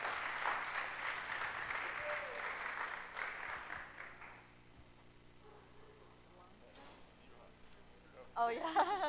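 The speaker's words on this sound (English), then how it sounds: "if you would like to give another warm welcome applause" Audience at a breakout session applauding panel members, a faint, distant patter of clapping that fades after about four seconds into quiet room tone, then a voice speaks near the end.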